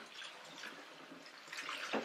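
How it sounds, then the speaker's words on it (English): Boiling pasta water being drained into a kitchen sink, a soft steady pour and splash that swells louder near the end, heard fairly close and alone. "Now that the pasta is done, we're going to walk it over to the sink here, where we're going to begin draining it."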